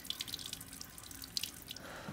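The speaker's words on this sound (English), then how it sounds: "Oh, I can turn the tap on." A water tap in the video game Resident Evil Village runs quietly, a faint steady trickle with light drips and splashes and no talking.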